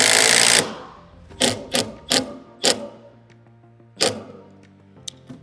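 A power driver sets center screws into pool table slate: a long loud whir opens, then several short sharp bursts of driving follow at uneven intervals, each fading quickly, with faint ticking between them.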